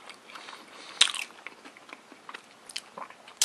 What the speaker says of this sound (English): It actually crisps when you bite it.